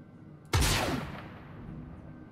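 A spaceship's guns fire in the video game Star Citizen: one sudden, loud blast that opens with a burst of noise and fades into a long, rumbling decay.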